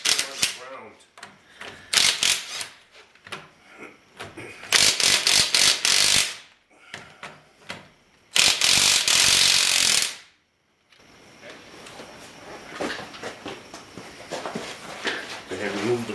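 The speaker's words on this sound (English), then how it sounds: "go ahead and loosen up the lug nuts, and I like to do that while it's still on the ground" An impact wrench loosens the lug nuts on a Ford Mustang wheel while the car still sits on the ground, firing in several loud rattling bursts separated by short pauses, with a person talking in between.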